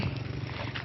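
A motorbike engine idles steadily nearby with a low, continuous rumble, beside an oyster collecting spot in Aceh.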